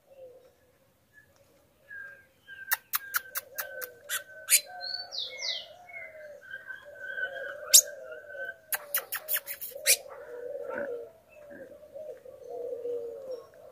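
A female rufous-collared sparrow calls in a cage: bursts of sharp, rapid chip notes and short whistled phrases, separated by quieter gaps, with low warbling sounds in the background.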